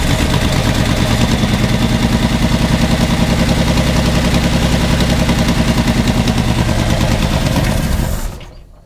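A 1961 Ford Falcon engine, abandoned for over twenty years and suffering a bad exhaust leak, runs loud and close with a rapid, rough ticking clatter. It shuts off abruptly near the end, leaving near silence.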